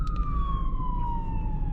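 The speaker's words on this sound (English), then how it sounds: "I think that's an ambulance, to be fair." An ambulance siren wails past with a steady falling tone, heard from inside a BMW 1 Series driving late at night, over the constant low rumble of the car and road.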